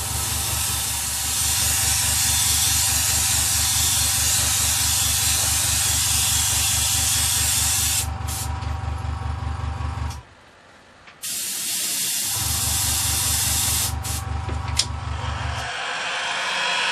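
Steady airbrush hiss of paint spraying onto a guitar body, continuous and close for about ten seconds, then a short break before the spray resumes, with a few faint clicks of the trigger.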